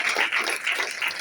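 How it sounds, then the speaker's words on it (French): An audience applauds speakers at an event with steady, close clapping that pulses slightly across a brief burst. "Un grand honneur d'applaudissements pour ces speakers"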